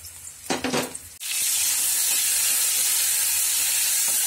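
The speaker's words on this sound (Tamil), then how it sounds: "இப்ப இந்த ஸ்டேஜ்ல வந்து நம்ம வெட்டி வச்சிருக்க தக்காளி ஆட் பண்ணிக்க போறோம்." Chopped tomatoes drop into a pan of frying garlic and onion for a chutney. A few soft clatters are followed by a sudden loud burst of sizzle that settles into a steady, bright hiss.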